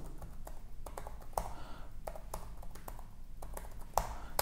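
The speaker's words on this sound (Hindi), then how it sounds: "यहाँ पे मैं कुछ टाइप करके देख लेता हूँ" Typing on the keyboard of an HP Envy 13T 2019 laptop: a steady, close run of clicky, tactile key taps with a few sharper, louder strikes, and no voice over it.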